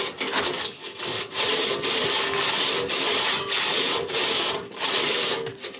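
Hand saw cutting wood inside a mine tunnel, loud rasping back-and-forth strokes in a steady rhythm, close by with echoing hollow surroundings.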